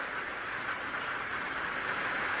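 A constant broadband wash of rain pouring down, even and unbroken for a couple of seconds, with no voices.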